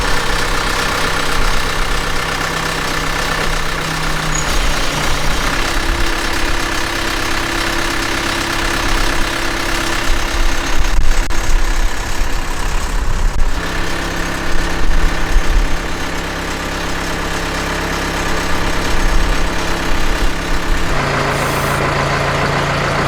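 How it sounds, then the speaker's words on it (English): A forklift engine idles steadily and loudly at close range while the forks are lowered, a constant droning rumble with shifting tonal hums and no voices. "once we start lowering that forklift down"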